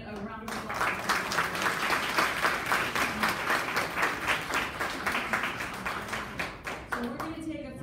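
A conference audience gives sustained, dense applause for a presenter, steady rolling clapping from many hands that lasts several seconds before tapering off.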